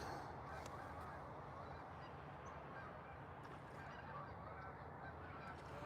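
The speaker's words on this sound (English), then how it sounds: "All the geese flying above, making all kind of noise." Geese honking continuously overhead above the Deschutes River, a dense noisy chorus of many birds calling at once with no pauses.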